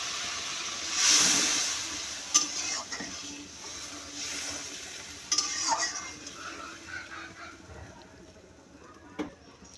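Cooked-down spice paste for an aila fish curry sizzles as a little water is added, a loud hissing burst that fades and is followed by several sharp stirring clinks and scrapes of a pan, with no talk.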